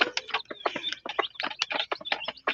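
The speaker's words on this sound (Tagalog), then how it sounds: "Thunderbird chicken." A Thunderbird chicken clucks close by in a steady stream of short, rapid clucks and chirpy calls, with no voices over it.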